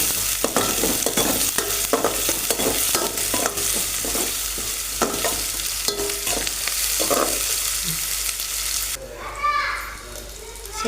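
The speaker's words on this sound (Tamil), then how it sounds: "இதை வந்து நல்லா வந்து வறுத்து எடுத்துக்கலாங்க" Onions frying brown in a pan with a loud continuous sizzle and repeated stirring scrapes, close up; the frying stops near the end and a voice speaks briefly.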